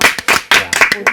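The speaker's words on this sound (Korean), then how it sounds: "명언 박수요." Studio audience clapping in short bursts, a handful of separate rounds of applause over about a second, close and fairly loud with no talk over it.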